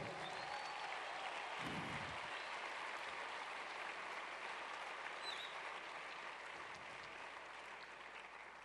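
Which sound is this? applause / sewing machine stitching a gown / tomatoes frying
applause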